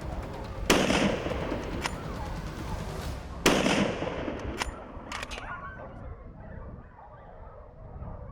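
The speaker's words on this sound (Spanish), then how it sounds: "Parece que el primer disparo ha tocado carne" Two sharp, loud hunting gunshots at a Spanish driven boar hunt crack out a few seconds apart, each echoing away, with distant dog barking and smaller pops in between.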